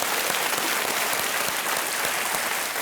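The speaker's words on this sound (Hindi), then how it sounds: "और तालियों के साथ आपका अभिनंदन।" A studio audience on a television quiz show applauds steadily and loudly throughout, a dense continuous wash of clapping with no voices.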